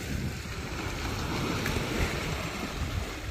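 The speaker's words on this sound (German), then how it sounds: "Die Flut kommt wieder, das Wasser kommt näher, das geht echt so brachial schnell jetzt." Sea waves on a beach with the tide coming in, a steady rushing wash of surf mixed with wind noise, continuous and fairly loud without talk.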